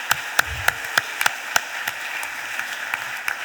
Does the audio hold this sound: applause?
yes